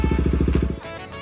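A motorcycle engine idling close by with a loud, even throbbing putter that cuts off abruptly partway through, leaving a quieter ringing tail as the bike is parked at a village temple.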